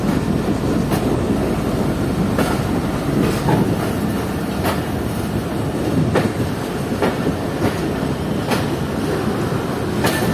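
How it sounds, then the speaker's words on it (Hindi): Loud, continuous rumble of a train shunting in a Pakistani rail yard, with rhythmic clanking of wheels over rail joints, heavy and close throughout. "शंटिंग चल रही है यहाँ पर"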